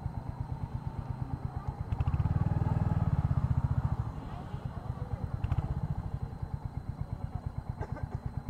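A Royal Enfield Hunter 350 motorcycle runs at a steady, throbbing mid-pitched rhythm while being ridden at sunset, the engine swelling louder for a couple of seconds before settling back, with a voice talking over it.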